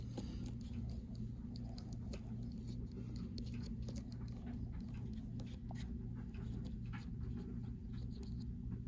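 Blade slicing through dense foam insert for a four-pistol case, a steady scratchy cutting texture with small crackles, close and fairly quiet with no talking.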